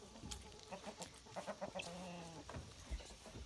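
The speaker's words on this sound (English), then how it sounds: "Tina is a rooster" A rooster named Tina clucks faintly in an outdoor yard, with soft intermittent bird calls over a steady background hiss, fairly distant and quiet.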